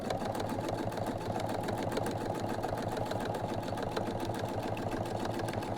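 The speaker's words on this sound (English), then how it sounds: "So you sew this on at 1/4 inch" A sewing machine stitches fabric steadily, sewing a pocket organizer seam at a quarter inch, its rapid needle rhythm continuous, close and fairly loud throughout with no voices.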